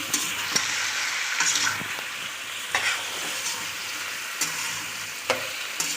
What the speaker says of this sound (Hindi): आलूओं को मैं रोस्ट कर लूँगी।